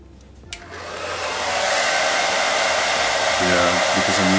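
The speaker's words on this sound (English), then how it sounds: "I'm gonna use a blow dryer real quick." A blow dryer switches on to dry airbrush paint on a gnome beard miniature, a steady loud whooshing roar that swells over the first second and holds, with faint tonal hum near the end.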